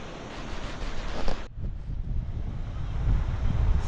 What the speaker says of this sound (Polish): Można się wsłuchać w odgłosy wybrzeża, fale, ptaki i piękne widoki.